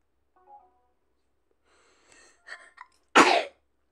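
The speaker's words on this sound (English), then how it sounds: "why do I keep sneezing" A single sharp, loud sneeze from a person bursts out near the end, preceded by a short sniff and a few quick inhaling catches, with near silence before.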